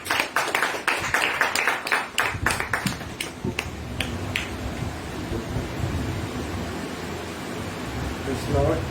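Worshippers at a Hindi church service clap loudly in a burst of sharp, rhythmic handclaps for about two seconds, then the clapping thins and fades into a broad, hissing roomy murmur.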